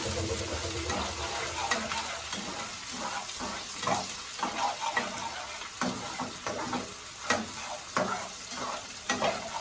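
Onions sizzle and fry in a hot pan for Nigerian rice and stew, a steady crackling hiss broken by repeated scraping stirs of a utensil against the pan.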